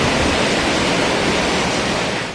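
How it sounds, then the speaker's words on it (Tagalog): Powerful floodwater rushes across the Narciso Ramos Highway in Lanao del Sur during heavy flooding, a loud, dense, unbroken roar of churning water with no voices. "Ganito kalakas ang ragasan ng tubig kagabi sa Narciso Ramos Highway sa Lanao del Sur"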